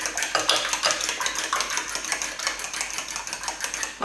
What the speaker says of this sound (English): Now I'm just going to grab a quick fork and give this a little whisk around